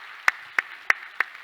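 A church congregation claps in unison, five crisp, evenly spaced claps about a third of a second apart, close and loud against a quiet background.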